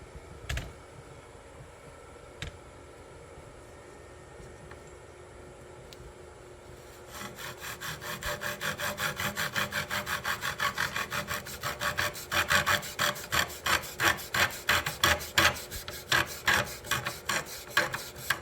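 Primitive hand tool drilling holes in a wooden Native American flute, heard as a close, rhythmic rasping scrape that starts faint and grows louder and more regular in quick strokes through the second half, without talking.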